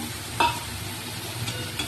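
Spice paste is stirred into potatoes and onions frying in a pan. A soft, steady sizzle runs under the stirring, with one brief clink near the start.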